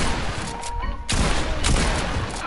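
Gunfire in a video game, a loud, dense fusillade of shots in quick succession, close and harsh, with a brief lull before the shooting resumes.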